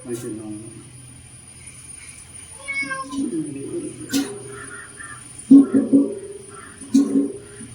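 A cat meows several times during a rescue in which its owners are lifting a heavy iron object out of water. The meows come in short bursts, close and moderately loud, and people talk around them.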